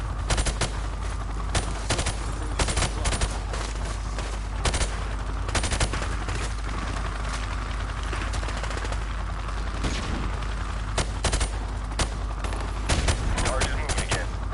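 Gunfire in the video game Call of Duty 4: Modern Warfare, dense bursts of automatic fire and scattered single shots over a steady low rumble, with a voice talking intermittently underneath.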